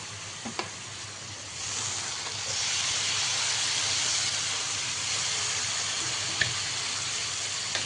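Tomatoes and spices hit a hot pan with a steady, fairly loud sizzle and hiss that swells after a couple of seconds, broken by a few sharp clicks of utensils.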